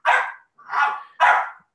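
A dog gives three sharp, evenly spaced barks, close and loud, while attacking a flexible playpen.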